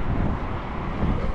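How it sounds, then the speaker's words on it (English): Wind gusting outdoors in Blackpool town centre on a cold day, a steady broadband rumble buffeting the microphone with low-frequency roar throughout, no voices. "It's just windy, but it's not too bad."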